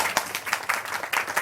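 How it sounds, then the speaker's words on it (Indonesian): Audience clapping at a Balinese Bondres Arja Muani comedy performance with Joged dancing, a brief burst of scattered claps with a few sharper individual strikes, moderately close and not very dense. "Tepuk tangan yang banyak"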